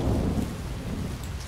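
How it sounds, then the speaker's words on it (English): Heavy rain pours with deep rolling thunder in a video game storm, a loud, dense roar that fills the whole moment without any talk. "And when is it gonna stop raining, damn it?"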